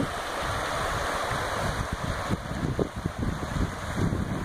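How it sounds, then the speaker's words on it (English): Steall Falls in Glen Nevis, Scotland, gives a steady broadband rush of falling water heard from a wire bridge, mixed with a few low thumps of wind or handling noise. "There's the waterfall."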